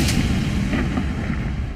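Dense, continuous rumbling blasts and booms with sharp bursts layered over one another, loud and close, like heavy explosive fire with no pauses, from a suicide bombing attack.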